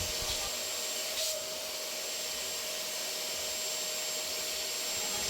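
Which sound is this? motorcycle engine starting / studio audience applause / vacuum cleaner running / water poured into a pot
vacuum cleaner running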